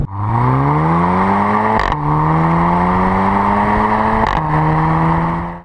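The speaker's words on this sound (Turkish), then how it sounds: "Vites geçirirken bir pırt sesi geliyor böyle arabadan." A revving Audi TT engine holds a steady drone that rises in pitch, with two sharp, brief exhaust pops breaking through at gear changes.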